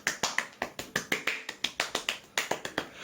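Rapid, excited hand clapping, close and sharp, about twenty claps in a fast, slightly uneven rhythm with brief gaps, and no voices.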